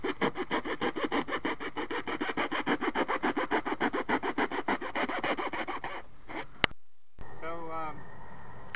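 A hacksaw blade cuts around a profile for an archery target build in quick, regular back-and-forth rasping strokes for about six seconds. Then it stops, and a voice begins speaking.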